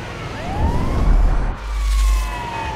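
An ambulance siren in Grand Theft Auto V wails loud and close, sweeping up and down in pitch over a low engine rumble.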